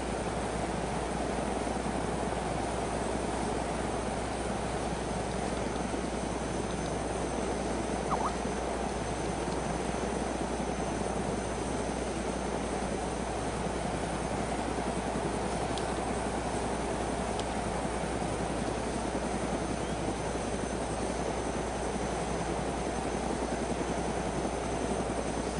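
Steady droning rotor and engine roar of a helicopter in a zombie survival video game, continuous and fairly loud for the whole stretch with no talking.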